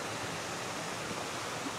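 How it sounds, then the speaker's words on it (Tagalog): A flowing stream at the Kamp Charlie-Nae campsite, a steady, even rush of water that fills the whole moment with no voices. "Itong lagaslas ng tubig lang ay"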